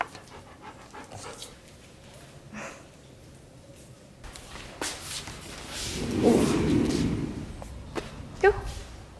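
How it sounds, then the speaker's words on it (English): Two dogs, a golden retriever and a goldendoodle, pant close by as they approach, with soft thumps and movement building louder toward the end; no talking. "that's the dogs coming. I have two dogs with me right now, Coco and Togi."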